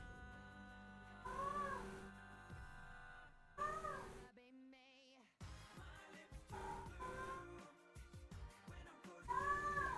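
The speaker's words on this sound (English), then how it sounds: "in the background, that's my cat." A house cat in heat meows and caterwauls repeatedly in a room, drawn-out wavering cries separated by short pauses, fairly close but not loud, with other sounds in between the calls.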